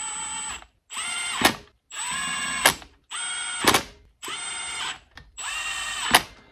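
An impact wrench runs down engine bolts on a single-cam Honda engine in six short bursts, each a whirring buzz ending in a sharp hammering rattle, with brief pauses between, close and fairly loud.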